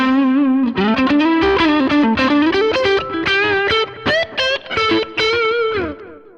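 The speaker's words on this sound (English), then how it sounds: "that's just like a high gain version of the Prince of Tone" High-gain lead electric guitar tone from an HX Stomp rig, loud and sustained with distorted, singing melodic notes and bends played alone over several seconds.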